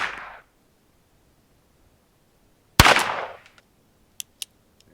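Cowboy-style pistol fired at a dude ranch shooting range: a single sharp, loud crack with a short trailing echo, a brief burst just before it, then a couple of faint clicks.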